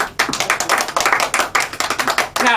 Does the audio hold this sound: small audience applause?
yes